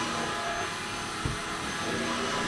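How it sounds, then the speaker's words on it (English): A Swan Dirt Master Cross X Over vacuum cleaner hoovers and cleans at close range, a steady, loud whooshing drone that runs without a break. "So it hoovers and cleans at the same time."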